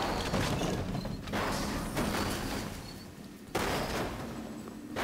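Machine gun fire from the video game Alien Swarm: a dense, continuous burst of rapid gunfire fills the clip with loud, steady energy, pausing briefly and then resuming.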